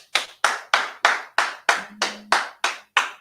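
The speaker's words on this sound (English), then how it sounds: "Let's clap it up for these brothers and sisters." Audience applause at a class gathering, as about ten sharp, evenly spaced hand claps ring out clearly with no talking over them.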